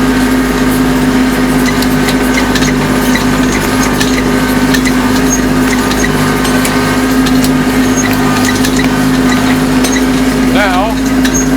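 A tractor engine runs steadily at about 2,000 RPM in medium range while its ROPS frame rattles, a loud low drone with metallic clatter layered on top and someone talking over it.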